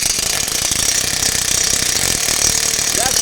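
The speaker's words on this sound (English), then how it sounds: "Now I'm going to go ahead and take that DeWalt and let's put it on there." A DeWalt impact wrench hammers continuously on a bolt, a loud, steady rapid-fire rattling buzz that runs close up through the whole stretch.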